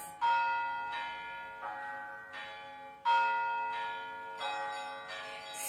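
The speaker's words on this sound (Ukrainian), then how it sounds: "і чути дзвін аж до небес" Church bells ring out at Easter in overlapping, resonant peals, each strike blooming and slowly decaying, with new strokes arriving every second or so.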